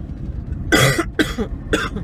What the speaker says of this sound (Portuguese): tô com uma tosse